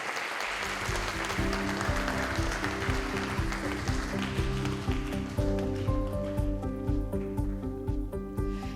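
An audience applauds steadily and fairly loudly throughout a talk concert in Jeju, while a low musical tone plays beneath it.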